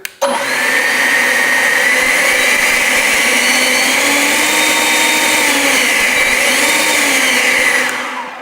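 A leaf blower runs loud and close, a steady high whine whose pitch glides up and down as the trigger speed is adjusted, then it drops off at the end.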